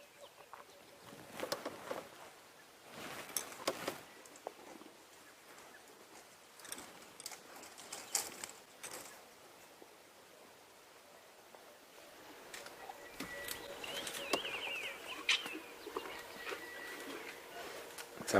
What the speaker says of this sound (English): enjoy all the different sounds of the elephants and the birds around us